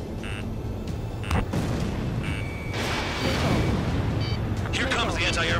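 In a jet combat mission over the Waiapolo Mountains in Ace Combat 7, a destroyed radar site booms through continuous engine roar, with a radio voice talking over the blasts and beeping cockpit tones.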